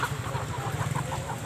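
Three-month-old laying hens cluck at a market, a cluster of soft repeated clucks at moderate distance over a low background murmur, brief and unbroken.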